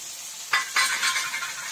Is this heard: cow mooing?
no